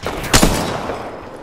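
Gunfire in Apex Legends, a couple of sharp, loud shots cracking close by, followed by a fading rumble.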